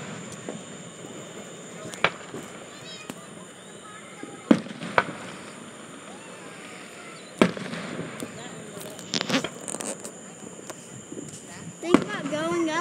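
Fourth of July fireworks popping and cracking outdoors in several sharp bursts spread over the stretch, some near and some more distant, with people talking and ambient noise between the blasts.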